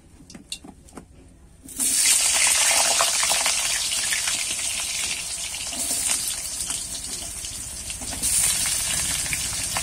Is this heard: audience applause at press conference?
no